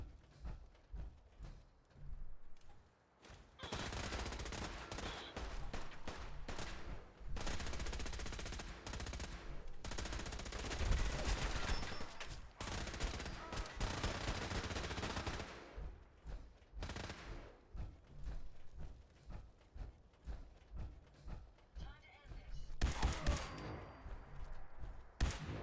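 Twin Gatling guns roar in long sustained bursts of rapid automatic fire during Fallout 4 combat, broken by brief pauses and shorter volleys, loud and close with no voices over them.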